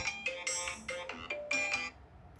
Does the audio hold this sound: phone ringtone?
yes